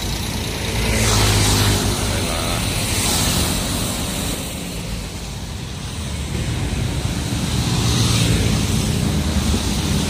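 An intercity bus pulls away from a roadside agent station at Pasar Rebo, its deep engine rumble swelling and easing over about ten seconds amid broad traffic noise, with no talking.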